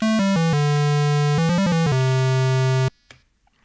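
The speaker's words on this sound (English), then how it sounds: "The square sounds like this." An 8-bit chiptune square wave instrument in MilkyTracker plays a few short stepped notes, then holds a long buzzy tone, loud and alone, before cutting to near silence.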